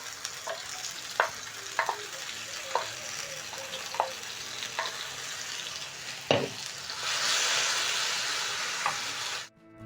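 Red capsicum, onion and garlic sizzle and fry in a hot pan, with a steady hiss broken by several sharp clatters of stirring, close up and without talking.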